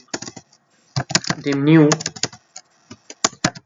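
Computer keyboard keys clicking in short bursts while someone writes VBA code, close and clear, with someone talking over much of the typing.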